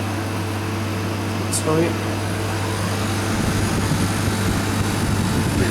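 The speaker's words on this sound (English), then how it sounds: "just plugged it in, fans fired straight up" Cooling fans of a milk vending machine running steadily just after being plugged in, a constant low hum and whir throughout, with someone talking briefly over it.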